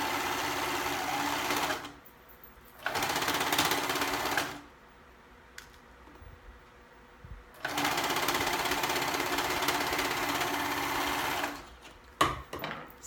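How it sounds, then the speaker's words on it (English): A serger runs along the fabric edge of a child's school dress in long, steady, buzzing bursts separated by pauses, close and loud, with a few small clicks and handling noises near the end. "So now I'm going to go ahead and serge."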